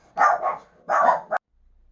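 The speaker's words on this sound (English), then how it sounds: "I had to pause it a minute because the dogs was barking." A dog barks in a few short bursts, a couple of quick barks, a pause, then another pair, fairly close with quiet after.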